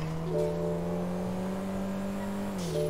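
A car engine in GTA 5 roleplay holds a steady droning idle-to-mid rev with a slight pitch rise and drop near the end, fairly loud and continuous with no talk over it.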